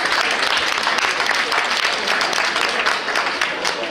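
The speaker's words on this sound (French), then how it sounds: "Je vous demande d'accueillir sous vos applaudissements à la troupe Tribal Dérivation" A crowd applauds to welcome the Tribal Dérivation dance troupe at a regional Dance Trophy selection in Bretagne, a loud, dense wall of continuous clapping that holds steady throughout.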